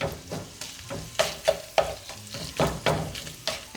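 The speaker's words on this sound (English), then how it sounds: "let's go ahead and chop up this meat" Ground meat frying in a pan as it is chopped and stirred for a dirty cabbage recipe: repeated scraping and chopping strikes every half second or so over a constant sizzle, no talking.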